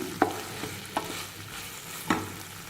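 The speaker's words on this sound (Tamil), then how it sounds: "தக்காளி சேர்த்து நல்லா வதங்கிடுச்சுங்க" Tomatoes sautéing in a pan for ivy gourd chutney, a soft steady sizzle broken by three distinct spoon strokes scraping the pan, close and moderately loud, no voices.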